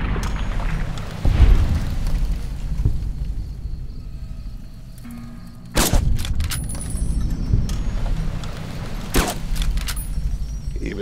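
Gunshots ring out at geckos in the video game Fallout New Vegas, a few loud separated blasts with booming tails over a low rumbling game ambience.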